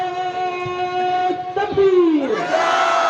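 A large crowd at a religious gathering roars the Takbir slogan in loud unison, a sustained chanted shout rising and swelling, with an amplified preacher's voice leading over it.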